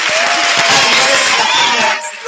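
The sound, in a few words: audience applause for a prize winner at a school show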